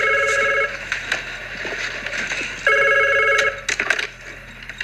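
An office telephone rings nearby in two long electronic bursts separated by a short gap, with faint background clatter underneath.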